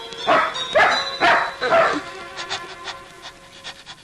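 A dog barks four loud, evenly spaced times up close, then trails off into softer yips and panting.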